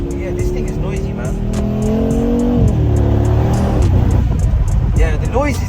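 Mercedes G63 AMG engine heard up close, a loud throaty rumble that revs and shifts pitch, with a sharp burst of engine noise near the end.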